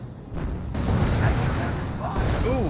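Butterfly bomb blasts in a Company of Heroes match, a low booming explosion with rumbling debris that swells and holds steady across the moment, while a commentator's voice runs over the top.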